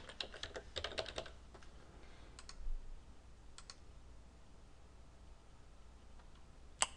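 A password is typed on a computer keyboard in a brief close flurry of clicks, followed by a few scattered keystrokes and a final sharp tap, quiet with no voices.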